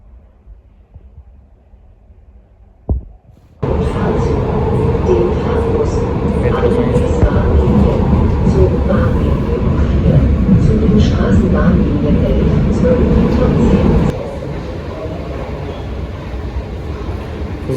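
A Frankfurt metro train runs with a loud, steady rumble and roar after a quiet start and a sharp onset, easing down slightly near the end, with people talking nearby.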